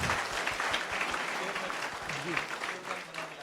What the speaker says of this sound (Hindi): इनको जोरदार तालियों के साथ में तारीफ कीजिए